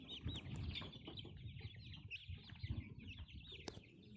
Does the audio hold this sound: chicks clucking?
yes